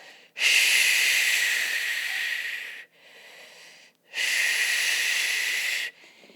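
Two long, loud forceful exhales with a hissy breathy quality during a Pilates ball core workout, separated by a short quieter breath, with no talking.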